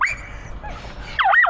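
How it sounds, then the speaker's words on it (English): A dog whimpers and yips in high, wavering whines, with a brief cry at the start and a louder burst of whining near the end, heard close over a low rumbling background. "there's a dog there"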